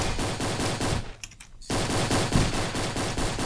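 Rapid repeated gunfire in a Roblox game, steady loud bursts of evenly spaced shots broken by one brief pause before resuming at the same pace, with no talking.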